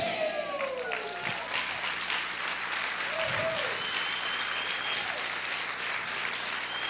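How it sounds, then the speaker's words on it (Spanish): A church congregation applauds during a sermon, steady dense clapping filling the room, with a few brief voices and shouts rising over it. "Dale ese fuerte aplauso al Señor."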